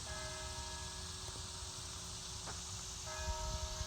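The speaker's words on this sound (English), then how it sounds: "it's 9 o'clock, and the 9 rings of the quiet bells of the Lutheran Seminary will be ringing" Church bells of the Lutheran Seminary strike for nine o'clock, faint and distant, their sustained tones ringing softly behind a steady hum of insects outdoors.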